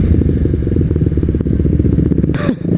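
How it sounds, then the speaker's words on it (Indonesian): Used Kawasaki Ninja 250 SL single-cylinder motorcycle idling close up, a loud rapid chugging beat with a metallic clattering rattle from the drive chain, ending in a short scrape. "itu biasanya dari rantai, dan suara gemerciknya tuh di RPM tertentu gitu"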